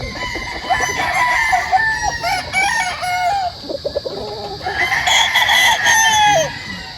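A gamefowl rooster on a farm crows loudly and close by in several drawn-out calls, with clucking and other fowl around it and no talk.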